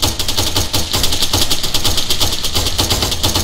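Rapid automatic gunfire in the military video game ArmA, a dense, loud burst of overlapping shots that continues without pause.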